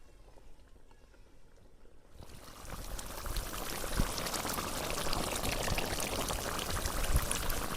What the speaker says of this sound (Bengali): ঝোল একেবারে টকবক টকবক করে ফুটে গেলে এই সময় দিয়ে দিব হচ্ছে আতপ চালের বড়ি।